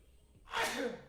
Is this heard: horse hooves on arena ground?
no